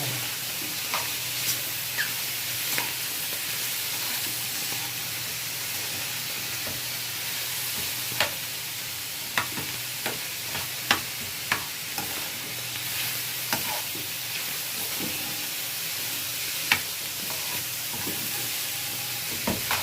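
Thinly julienned onion sautés in a pan for a pizza topping, giving a continuous soft sizzle. Scattered utensil clicks and taps sound against the pan, close by and with no talk.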